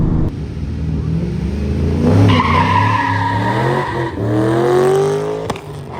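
A Mustang drift car launching at a drag race, its engine revving hard and rising in pitch as the tires spin and squeal, loud and close, falling briefly before climbing again.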